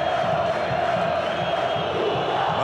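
A dense crowd of Portuguesa fans sings and chants with a steady beat in the stands at Canindé stadium in São Paulo, a loud, continuous wall of voices filling a 2008 Brasileirão match against Flamengo.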